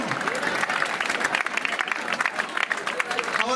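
Students clapping loudly together, a dense burst of applause from a crowd during a Ganesh Chaturthi gathering, with voices mixed underneath.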